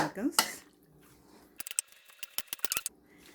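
Calamari being mixed with salt by hand in a bowl, a burst of wet rustling at the start, then a quiet gap followed by a run of light clicking taps against the bowl, close and soft.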